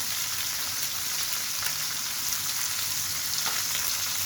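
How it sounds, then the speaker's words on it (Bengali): Hilsa fish frying in hot oil, a dense continuous crackling sizzle like light rain, heard close and steady with occasional faint pops. "সবগুলো মিডিয়াম করে ভেজে তুলে নেব"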